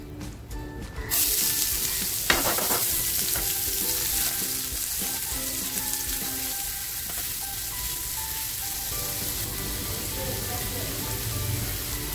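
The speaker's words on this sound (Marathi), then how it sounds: "आता जे हे तेल राहिलेलं आहे ना ह्या तेलामध्येच अगोदर कांदा टाकते" Onion dropped into leftover fish-frying oil, a loud, dense sizzle that swells in early and holds steady, with a brief clatter near the start and no talk.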